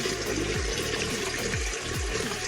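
Water runs fast into a soft 8-litre AXXIS bucket, a steady close rushing pour with gurgling and splashing.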